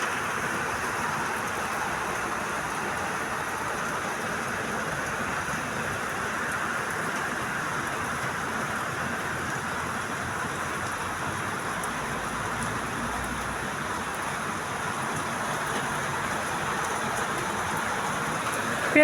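Steady rain falling on a midday, a dense continuous hiss of drops on surfaces that holds at an even, fairly loud level throughout with no voices.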